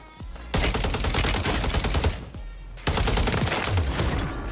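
Gunfire in Vondel battle royale, rapid close automatic bursts in two long volleys split by a short gap, loud and sharp with dense repeating cracks.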